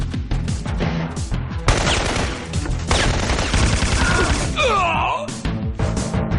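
Video game gunfire crackles in loud rapid bursts of automatic shots, with a crash and ringing, swooping effects near the end.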